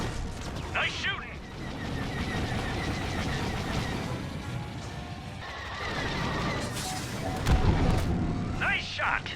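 Blaster fire from starfighters shooting at TIE fighters in a Star Wars virtual reality game, heard as loud, dense bursts and crashing impacts over a constant roar, with voices talking throughout.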